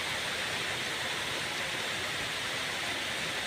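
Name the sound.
heavy rain pouring down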